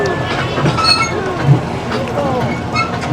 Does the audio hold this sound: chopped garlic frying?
no